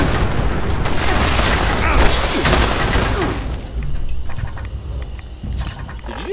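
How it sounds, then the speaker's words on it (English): A gunshot passing through a wall in the online game Fallout 76: a loud, booming blast over dense, noisy game ambience that fades out, followed by fainter scattered clicks and thuds. "Did you just shoot me through the fucking wall"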